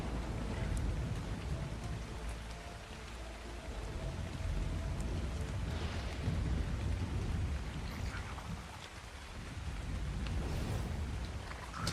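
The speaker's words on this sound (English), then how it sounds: "I don't want to live in the rain all day and all night." Steady rain falls in the Ark Survival Ascended video game, a continuous dense hiss with low rumbling swells that could be distant thunder, and no voices.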